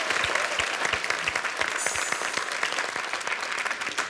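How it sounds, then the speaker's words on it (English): Studio audience applauding a pastry chef at a cooking masterclass: dense, lively clapping with a few sharp louder claps standing out, sustained and close throughout. "applause."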